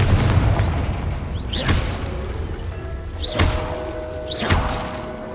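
Confringo blasting spell from a wand in the Hogwarts Legacy video game, booming twice in succession over a rumbling game background, with a third smaller burst following.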